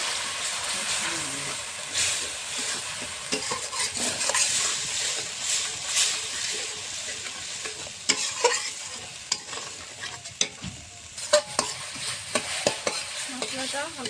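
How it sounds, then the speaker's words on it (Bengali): A spice masala of chili, coriander and turmeric powder with salt fries and is stirred in a pan, giving a steady sizzle broken by scraping spatula strokes and scattered clinks that get sharper toward the end. "দিয়ে দেবো এক চামচ লঙ্কার গুঁড়ো ধনে গুঁড়ো হলুদ গুঁড়ো স্বাদ মতো নুন দিয়ে মশলাটা কষিয়ে নেব"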